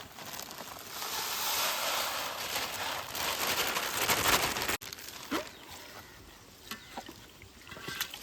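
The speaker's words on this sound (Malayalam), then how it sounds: "നമുക്ക് ഈ അരി ഒന്ന് കഴുകിയെടുക്കാം" Close-up sloshing and swishing of water as rice is rinsed by hand, with grainy rustles, a brief clatter, and quieter trickles afterward.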